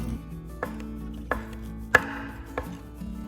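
A knife chops scamorza cheese into small cubes on a board, with four separate sharp taps spaced about half a second apart, the third noticeably louder, close and clear with no talking.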